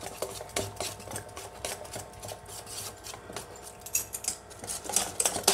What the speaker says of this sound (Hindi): इसको अच्छी तरीके से फेंट लेंगे।